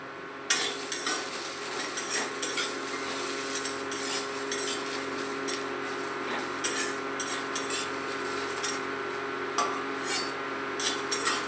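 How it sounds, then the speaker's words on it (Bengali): Freshly washed whole green chillies hitting a hot wok, giving a steady wet hiss with scattered crackles and faint clinks of stirring, close and alone with no voices. "এবারে বেশ কিছুটা কাঁচা লঙ্কা আমি এই গরম কড়াইতে মধ্যে ধুয়ে দিয়ে দিলাম"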